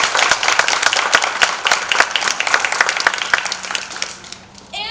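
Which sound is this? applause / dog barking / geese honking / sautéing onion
applause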